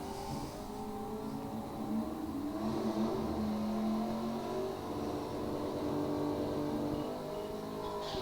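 A second-generation Camaro drag car with a small-block Chevrolet V8 runs heads-up at a Jegs Northern Sportsnationals strip, its engine a loud, sustained roar climbing steadily through the gears with no talk.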